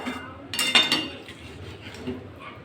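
Milk being stirred into a potato and pointed gourd curry in a pot, heard as clinking and scraping of a utensil against the metal pot, loudest in a short burst early on, then softer stirring.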